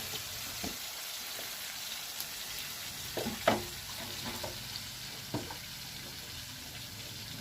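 Pounded fermented soybean (thua nao) goes into hot oil, giving a soft, low-level sizzle with a few sharp clinks and scrapes of a spoon against the pan, for khao soi nam ngiao.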